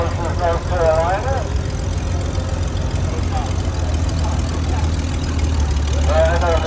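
A John Deere 530 tractor with a single bar mower runs at a steady low idle-like drone during a tractor parade, its engine loud and constant while a person talks over it.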